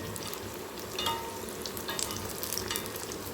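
Raw banana bajji fry in hot oil in an iron kadai, roadside-stall style, giving a steady, close, crackling sizzle with bursts of bubbling and no voices.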